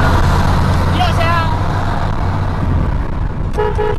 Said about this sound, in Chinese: 两边火气都很大，互相狂按喇叭。